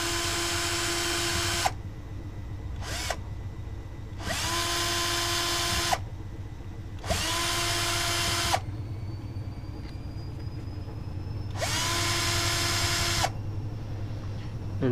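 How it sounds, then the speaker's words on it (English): Power drill running in repeated bursts of about one to two seconds with short pauses between, backing screws out of a Ford FMX automatic transmission valve body, loud and close with a low steady hum underneath. "On the valve body, remove the screws."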